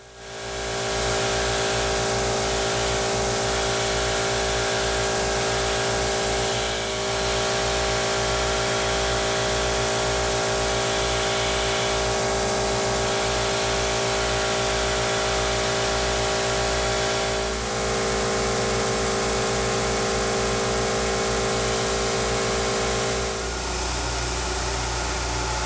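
A belt grinder shapes a neck knife, its steady motor drone running loud and continuous for the whole stretch, with only slight shifts in tone as the blade is worked against the belt.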